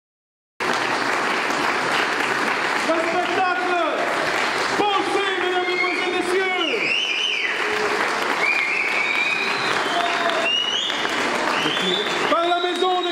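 Audience applause at a community festival in Schaerbeek's town hall, a dense, sustained clapping from a sizable crowd that starts abruptly and continues steadily, with scattered cheers and whistles rising above it.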